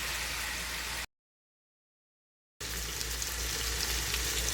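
Ground turkey browns in a hot pan with a steady, dense sizzle and frying hiss. The sizzle cuts out to silence for about a second and a half, then resumes at the same level.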